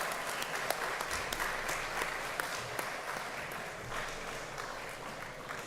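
Conference audience giving a sustained round of applause, dense clapping from a sizable crowd heard at moderate distance, steady throughout with a few sharper claps standing out.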